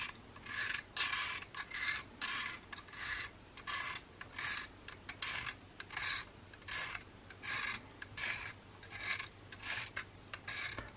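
A pen knife is drawn repeatedly across a sharpening stone, giving a steady series of close, rasping strokes about twice a second for the whole stretch, with no voices.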